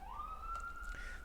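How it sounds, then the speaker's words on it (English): An emergency vehicle siren wails outside on a street in Brooklyn, a single rising tone that holds steady and fairly distant, heard indoors over a low room rumble. "Sorry for all the sirens. I do live in Brooklyn where there just is constant sirens."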